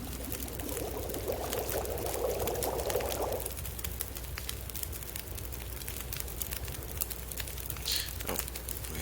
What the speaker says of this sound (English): let's boil some water